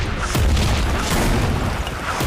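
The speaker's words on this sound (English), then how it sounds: "they are legitimately dropping bombs" Bombs dropping in the VR shooter Zero Caliber VR, heard as a dense barrage of heavy booming blasts with sharp cracks at intervals over a continuous low rumble, loud and close.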